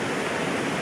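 Water rushes over a small weir on the Weser at Hameln, a dense, steady, close roar of broadband noise with no voices.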